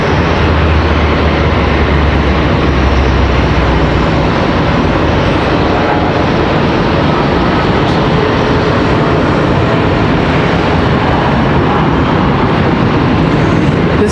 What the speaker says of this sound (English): We've got another ERJ up for departure here.